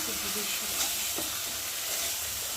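Spice masala for a fish curry fries and is stirred in hot oil, giving a dense, even sizzle with soft scraping of the spatula, close by and steady throughout.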